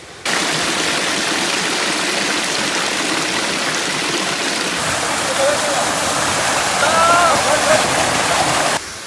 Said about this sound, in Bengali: এ হচ্ছে স্বর্গের সিঁড়ি নামক যে ঝর্ণা, এটা আসলে একদম সিঁড়ির মতো